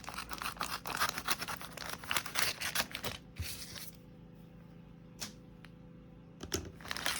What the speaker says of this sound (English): Just going to cut. Yeah, just going to cut right through the bag.